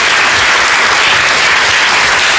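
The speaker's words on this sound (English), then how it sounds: "Why is the applause?" Loud, dense applause from an audience at an anniversary event for a big clean-up campaign, a continuous roar of many hands clapping with no break.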